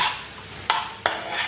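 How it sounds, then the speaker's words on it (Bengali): Catla fish roe fries in a pan under a soft, steady hiss, broken by two sharp scrapes of a spatula stirring it. "এখন আমি অনবরত নাড়ব"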